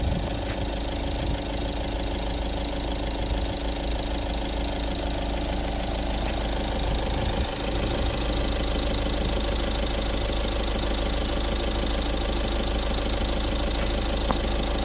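A used car engine idles steadily, a continuous mid-pitched hum with a faint rhythmic beat throughout, close and even with no other sounds.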